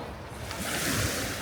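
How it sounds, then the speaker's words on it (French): Ocean waves break on a shore in a steady, loud, close rush of surf that swells slightly partway through, with no talking. "J'espère que le bruit des vagues ne va pas vous déranger"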